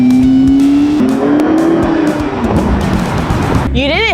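A McLaren accelerates on its first drive, a loud rising engine note building through gears, then a sharp tire squeal near the end, close and dominant.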